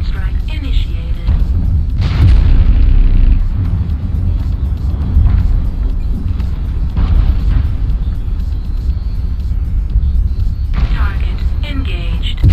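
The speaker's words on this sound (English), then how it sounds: "Tank strike initiated." Tank strike explosions in a video game sound as several heavy booming blasts at irregular intervals over a constant loud rumble of engines and battle noise.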